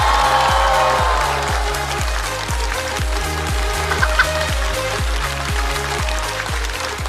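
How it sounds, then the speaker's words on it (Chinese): A stand-up comedy show audience bursts into loud, sustained applause, the clapping steady and close, with regular deep thumping beats pulsing underneath the whole time. "再次把掌声送给雪冰和小帕"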